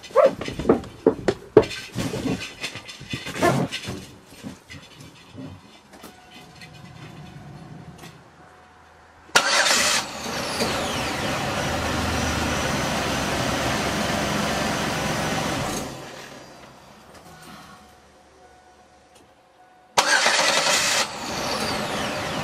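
A Pontiac engine cranks over on the starter, a steady loud churning that runs for several seconds, cuts out, then resumes briefly after a pause, preceded by scattered knocks and handling noises.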